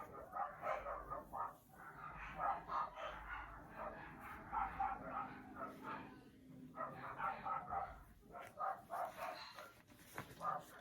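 Several dogs bark repeatedly in bursts at moderate distance, a steady run of overlapping barks and yips continuing throughout.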